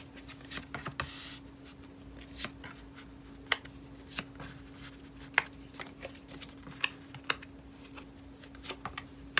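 Tarot cards being laid out on a table for a reading: a quiet run of soft, crisp taps and slides, scattered one by one at an uneven pace, close and alone over a faint steady hum.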